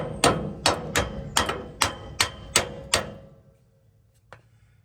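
Eight sharp, evenly spaced metal hammer blows ring out on an equipment trailer axle, loud and close, each with a short ringing decay, followed by quiet and a faint tap.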